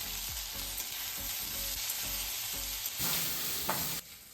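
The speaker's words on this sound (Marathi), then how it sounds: "आता हे मसाले छान परतून घेऊयात" Black pepper, cloves, cashews and melon seeds roasting in a hot pan, a continuous close sizzle with rhythmic stirring scrapes, then a brief burst of louder frying before it quiets near the end.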